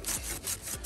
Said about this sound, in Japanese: 角を削いでいくような感じでノコギリを引いていく